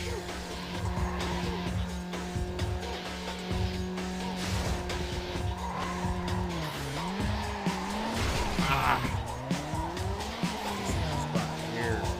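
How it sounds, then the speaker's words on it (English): A turbocharged car engine in a retro racing video game drones steadily and loudly throughout, its pitch sweeping up and down through gear changes, with tire squeals and skids over continuous game music. "You hear the turbo in this one."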